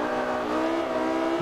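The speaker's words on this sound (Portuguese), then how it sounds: "tem alguém acelerando perto de mim" A nearby race car revs and accelerates in Forza Motorsport 5, a steady, loud engine tone holding over the whole moment with no talk.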